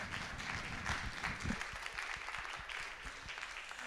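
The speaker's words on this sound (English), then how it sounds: "Can we do just another round of applause for both of our filmmakers" An audience at a film festival Q&A claps steadily throughout, a dense patter of many hands with a few louder individual claps standing out.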